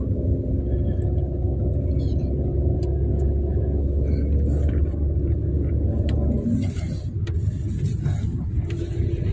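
A family car under way on the road to the Bhimashankar temple, with a steady low engine and road rumble carrying on throughout and a slight change in tone near the end.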